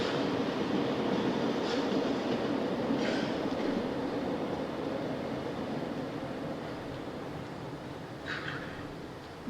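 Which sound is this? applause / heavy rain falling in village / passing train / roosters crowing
passing train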